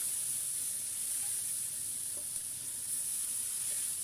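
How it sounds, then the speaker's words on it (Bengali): Five-spice, two bay leaves and chopped tomatoes frying in hot leftover vegetable oil, a steady soft hiss and sizzle running continuously with no talk. "সেই একই তেলে আমি 5 ফোড়ন দিয়ে দিলাম। 2 তেজপাতা আর কেটে রাখা টমেটোগুলো দিয়ে দিলাম।"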